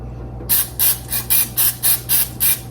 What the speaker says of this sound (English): I'm gonna spray my measuring cup just a tad